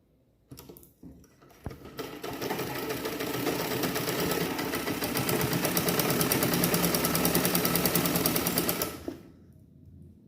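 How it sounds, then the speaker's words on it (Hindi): A sewing machine stitches a double-folded hem on a blouse sleeve, running in one long continuous rapid burst of close, even mechanical clatter after a few short starts, then stopping. "अब इसमें हम नीचे सिलाई मारेंगे इस तरह से डबल फोल्ड करते हुए"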